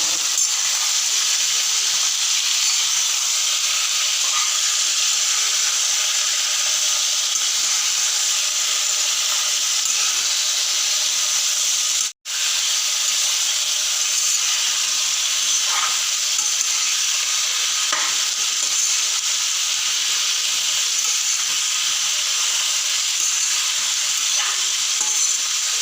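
Jackfruit and potato pieces fry with meat in a pan, giving a continuous loud sizzle and hiss with occasional faint stirring scrapes. It runs steadily for a long stretch, with one brief dropout.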